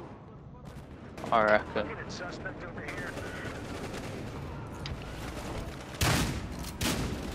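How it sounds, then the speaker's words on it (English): Shotgun blasts in the Battlefield Hardline video game, a few fairly quiet booming shots amid distant gunfire and game noise, with someone briefly talking. "Pull out the shotgun now because we're within range."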